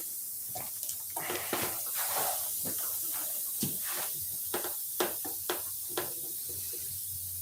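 A handheld spray bottle spritzes in a series of short, close hissing bursts, irregularly spaced over a steady background hiss, with a cluster of quick sprays near the end.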